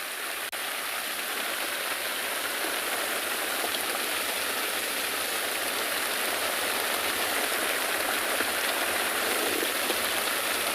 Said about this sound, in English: Can you hear this wonderful rain?